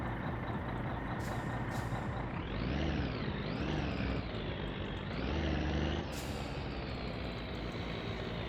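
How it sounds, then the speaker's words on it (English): A car engine revs up and down in a few rising and falling surges over a steady low rumble, fairly close and loud, then settles back to a constant drone. "he's revving the engine"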